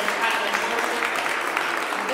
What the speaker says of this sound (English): let's give another hand clap for that